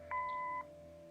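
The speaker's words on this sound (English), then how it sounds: "Leave a message after the beep." An answering machine in the video game Kathy Rain gives a single steady electronic beep lasting about half a second, clean and moderately loud over a faint background hum, with no voices.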